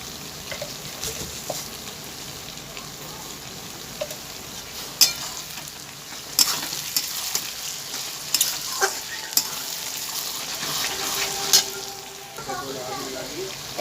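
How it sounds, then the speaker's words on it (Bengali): Onions frying in a pan while being stirred, a steady close sizzle with occasional sharp clinks of a spatula against the pan, no talking. "পেঁয়াজ ভাজা হয়ে গেছে"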